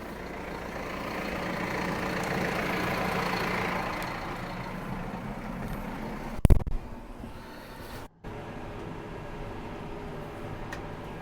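A tractor engine runs while baling hay, a steady rumbling drone with a loud clunk and mechanical bang midway, then a sudden brief cutout before the running resumes.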